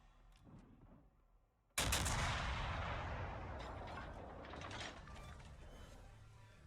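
War Thunder game audio of the destroyer USS Hull firing naval guns: after quiet mechanical clicks, a sudden loud blast lands, then a long rumbling decay with scattered clanks.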